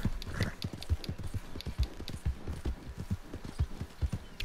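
Horse hooves clip-clop at a steady trotting rhythm in Red Dead Redemption 2, close and fairly loud with no talk over them.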